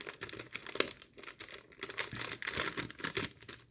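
Plastic packaging of a Pixel Hobby keychain kit is crinkled and torn open up close, giving a steady run of crisp rustling and crackling with no talk.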